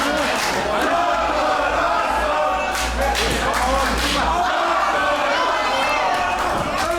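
A wrestling crowd at a world title match roars continuously through a busy, dense wall of cheering and shouting, with occasional thuds from the ring and a commentator talking over the din.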